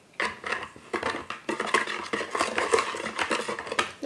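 Eggs and sugar are beaten with a whisk in a bowl for a cake, giving a steady run of quick scraping, clinking strokes against the bowl's sides, close and fairly loud, with no voices.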